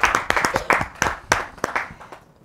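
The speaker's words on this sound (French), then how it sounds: "Applaudissez pour Mao, s'il vous plaît" A small studio audience on a talk show claps for a guest, a short burst of distinct, separate claps that thins out and fades within a couple of seconds.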